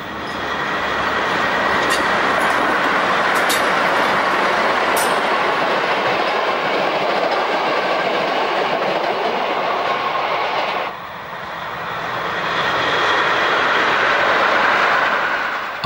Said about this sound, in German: Zuletzt unterfährt der Zug den Standpunkt Gerwigfelsen.